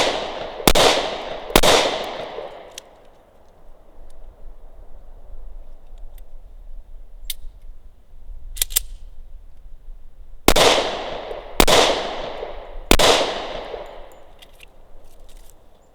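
Smith & Wesson Shield .45 ACP pistol fired outdoors: two sharp, loud cracks early, scattered faint pops in between, then three more close, ringing shots near the end, each trailing off in echo.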